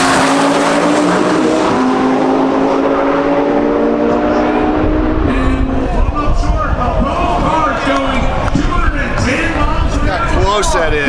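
Drag race cars at about 210 mph on a drag strip at a TX2K event, with a loud, continuous engine roar and rising whine that sweeps through as the cars pass, shifting into rougher pulsing tones, steady and dominant throughout with a voice over it.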